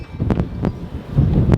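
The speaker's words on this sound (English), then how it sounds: "It's windy." Strong outdoor wind of about 25 mph buffets the microphone in rough low gusts, with a few sharp rustling bursts over the blowing.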